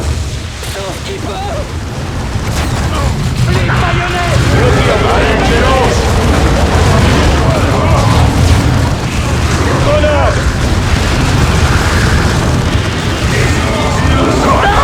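Explosions and battle noise from the Dawn of War 2 video game, with a grenade blast among dense, continuous booms and gunfire, while voices talk over the action.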